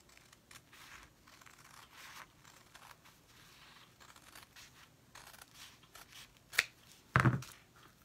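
Scissors snip and trim paper being prepared for Mod Podging onto tin cans, with quiet rustling and a few sharp, close cuts near the end.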